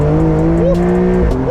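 A high-revving car engine rated at 210 horsepower and spinning to 11,000 RPM holds a loud, steady, close howl, climbing briefly in pitch, then dipping and recovering near the end.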